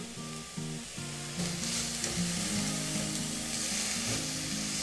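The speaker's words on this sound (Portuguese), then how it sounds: "nós vamos dourar uma cebola média, dois dentes de alho" Chopped onion and garlic frying in oil in a skillet, a steady sizzle running throughout, with tonal musical notes playing over it.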